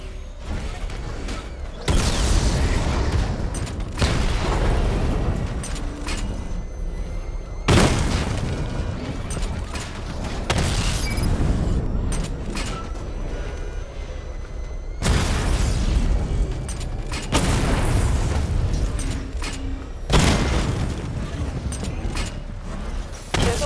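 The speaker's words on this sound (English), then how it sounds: "Charge the missile barrage to level 2 to destroy up to 4 targets at once." Missile barrage explosions in the video game Batman Arkham Knight, a series of heavy booming blasts with rumbling mechanical tails, coming every few seconds and loud throughout.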